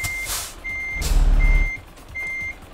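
A semi-truck in Euro Truck Simulator 2 emits steady evenly spaced reversing beeps while backing up, with a low engine rumble and a brief hissy swell partway through, loud and close.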